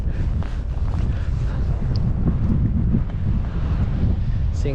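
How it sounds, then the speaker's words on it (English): Strong, cold wind by the Baltic Sea in Sweden buffets the microphone in a loud, continuous low rumble with gusty surges, no voices heard. "This is so windy and cold."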